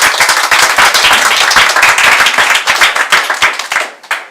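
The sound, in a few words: round of applause after talk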